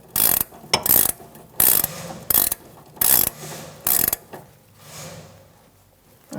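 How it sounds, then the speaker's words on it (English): Ratchet wrench snugging a front sway bar link nut on a 2008-2013 Nissan Rogue: loud, close bursts of rapid clicking from the ratchet in several short strokes, then quieter handling sounds. "get my 18mm ratchet wrench and snug it up before I torque it"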